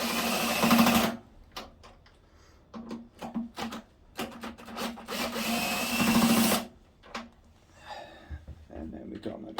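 Cordless power drill spinning out bolts on a ZX6R motorcycle during a plug and filter service, in several close bursts of whirring separated by pauses, with a voice talking between them.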